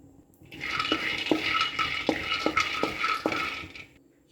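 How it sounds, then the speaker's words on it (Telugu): Peanuts dry roasting in a hot pan, close rattling and rustling as they are stirred, with a regular series of scrape strokes about every half second. "ఇప్పుడు పల్లీలు వేయించుకుందాం మంచిగా దూరగా వేయించుకోవాలి"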